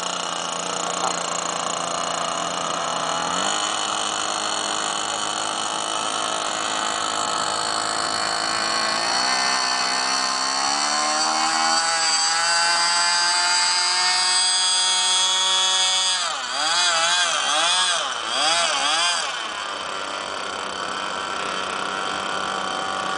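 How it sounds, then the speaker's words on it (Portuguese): A small combustion-engine model airplane, prepared for takeoff, whines loudly and steadily, its pitch climbing and wavering as the throttle changes, with a few quick revving surges near the end. "Avião a combustão."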